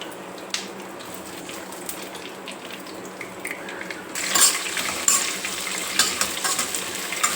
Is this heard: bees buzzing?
no